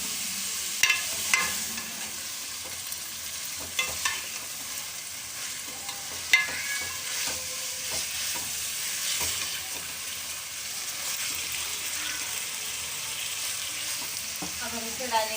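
Tomatoes and spices cook in a pan with a continuous low sizzle. Intermittent scraping and clinking stirring strokes come through at irregular intervals.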